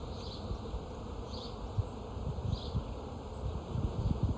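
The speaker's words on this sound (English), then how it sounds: "See, the bees aren't aggressive at all, so you don't need to worry about bees" Honeybees buzz steadily around an open hive during a summer inspection, a dense close hum with occasional louder passes near the listener and soft rustling, no talking.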